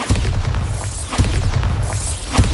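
In a Harry Potter video game, the Bombarda spell sets off a dense, rumbling explosion, with repeated deep booms and thuds clustered over a couple of seconds at close range.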